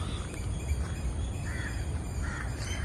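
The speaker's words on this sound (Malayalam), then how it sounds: "നല്ല കിളികളുടെ ശബ്ദം കേട്ടോ" Faint bird calls over a constant outdoor hiss near the sea, with a couple of short calls standing out.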